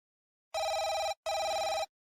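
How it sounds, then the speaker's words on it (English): A video game phone rings in two electronic trilling bursts of about half a second each with a short gap between, loud, steady and bright, with no voices over it. "My phone sounds way louder than it usually does."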